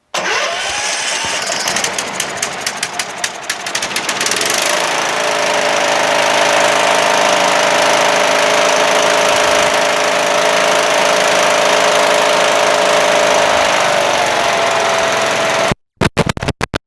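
Craftsman 22-inch Tecumseh push lawn mower engine with a non-adjustable carburetor, started on full choke, runs steadily and loudly at close range after a brief start-up sputter, cutting off abruptly near the end.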